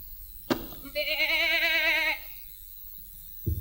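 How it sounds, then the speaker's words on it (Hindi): A goat gives one long, wavering bleat lasting about a second, heard clearly and alone between two brief knocks in a quiet room within a comedy stage play. "बकरा?"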